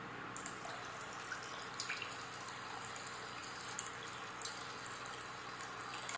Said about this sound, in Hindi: अब इसमें हम पानी भी डाल देंगे।